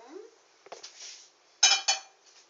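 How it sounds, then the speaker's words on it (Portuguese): A frying pan is set down on a stovetop while making crepioca, giving a couple of sharp metallic clanks and scrapes close by, with lighter clinks before them and no talking. "Agora a gente coloca a frigideira no fogão"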